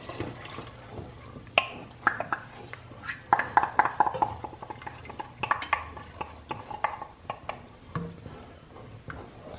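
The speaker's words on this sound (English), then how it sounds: "this one is boiling, so I'm gonna pour the chocolate in there" Chocolate drink mix is poured into a boiling pan and stirred, with bubbling, splashing and clinking scrapes in an irregular rhythm, close and moderately loud.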